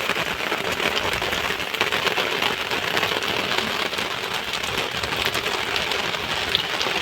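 Steady rain falls on a farm field, a dense, even hiss of drops that holds constant and fairly loud throughout, with no voices.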